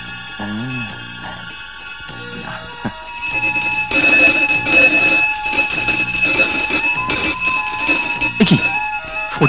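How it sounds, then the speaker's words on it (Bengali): A bell rings loudly and insistently, like a fire brigade alarm, in a Bengali film scene; the clanging rises after a few seconds of quieter sounds and continues steadily, with some voices faintly underneath. "হঠাৎ ঘন্টাটা দমকলের মতো বাড়ি দিল কেন বলো তো?"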